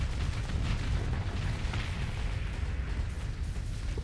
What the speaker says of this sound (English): I love the sound of the plasma cannons.